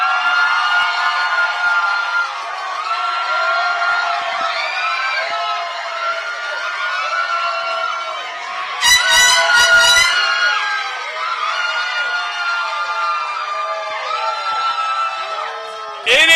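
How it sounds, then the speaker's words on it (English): A loud crowd cheers, whoops and shouts for public school teachers at an awards event in Guam, with air horns blaring through the middle and a steady roar throughout. "This is a wonderful noise being made for these incredible public school educators."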